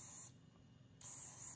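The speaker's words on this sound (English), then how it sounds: "So I just sprayed it with a little bit of silicone spray, and that just helps it slide on." Two short hissing bursts of silicone spray are aimed into the weather-sealed wheel speed sensor connector of a 2013 Jeep Wrangler Sahara 3.6L, separated by a brief quiet pause, close and fairly soft.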